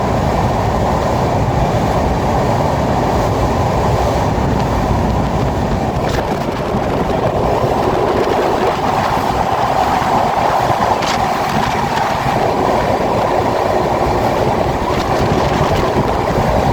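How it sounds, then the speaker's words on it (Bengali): Passenger train pulling out of Mawa station onto the Padma bridge in Bangladesh, heard from on board as a loud, continuous rolling rumble with steady clatter and no break. "হুইসেল মেরে দিছে, ছেড়ে দিবে ট্রেন"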